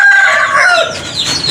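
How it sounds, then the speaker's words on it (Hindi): Pet chickens and roosters, hungry at evening feeding time, give a close, loud burst of clucking and a short crowing call that rises and then trails off. "मेरे चूज़े बहुत भूखे हैं, मुर्गे सब तमाम भूखे हैं।"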